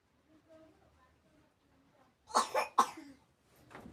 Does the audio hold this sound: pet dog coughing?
yes